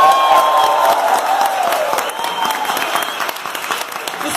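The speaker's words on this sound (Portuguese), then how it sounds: "uma salva de palmas para todos vocês" A church congregation applauds for the fathers, a dense burst of clapping that starts loud and slowly thins over a few seconds, with faint voices underneath.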